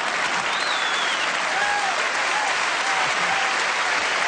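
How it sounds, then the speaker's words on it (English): A theatre audience at a variety show gives two volunteers loud, sustained applause, a dense and even clapping from a large crowd that lasts the whole time. "a round of applause for these two wonderful sports"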